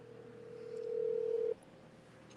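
A voicemail recording tone sounds as a single steady electronic beep lasting under a second, clear and close over a faint line hiss, followed by near silence.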